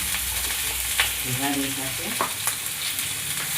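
Ground spices frying with tongra fish in a pan make a steady close sizzle, with a few stirring knocks and a brief bubbling burst near the middle.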